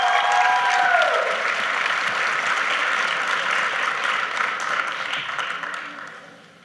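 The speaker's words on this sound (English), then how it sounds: "Let's give our newest members another round of applause." Loud, sustained applause from an audience welcoming new members at a high school National Honor Society induction ceremony, a dense wash of clapping that gradually tapers off toward the end.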